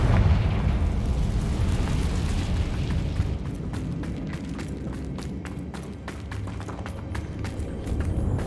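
A fire-spell blast in the video game Hogwarts Legacy erupts as a loud, dense roar that gradually settles into a crackling, rumbling burn, with many small snaps and pops continuing throughout.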